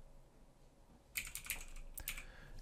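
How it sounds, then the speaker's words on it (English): Rapid keystrokes on a computer keyboard, typed in a short burst of close, crisp clicks followed by a couple of separate taps, with no voices. "You need to type regedit"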